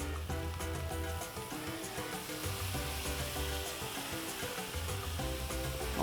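Stir-fry sauce hits a hot pan in a beef and sweet potato stir-fry, with a loud, steady sizzle and frying hiss under a low background hum.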